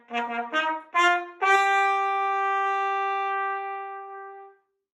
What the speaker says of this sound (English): I play the trumpet